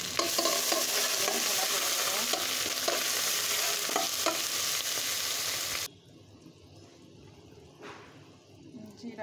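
Onion-garlic paste, nut paste and ground spices sizzle loudly in a hot pan for biryani while being stirred with steady scraping, the frying cutting off abruptly partway, leaving quieter faint clinks and rustles.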